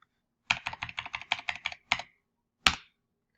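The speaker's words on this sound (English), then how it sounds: "You would type in 2 coordinate pairs like this." Computer keyboard keys clack in a quick run of about ten close, crisp strokes, then a short pause and a single harder final keypress, heard alone without talk.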